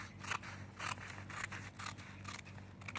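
Scissors snipping through folded fabric for an appliqué dress design, a series of close, crisp cuts in an irregular rhythm, fairly quiet.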